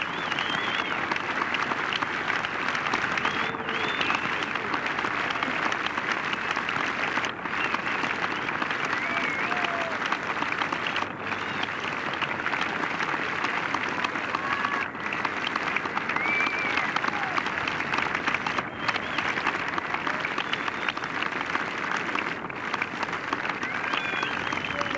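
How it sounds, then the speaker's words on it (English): A golf crowd at St Mellion applauding players as they approach the 18th green, sustained broad clapping from a large gallery spread across the course, steady and loud for the full length. "a tremendous reception from the knowledgeable crowd down here at St Melian"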